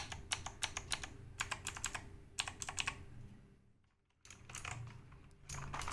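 Typing on a Redgear Shadow Blade clicky mechanical keyboard: close, crisp bursts of rapid key clicks in quick clusters, a short quiet pause, then more clacking.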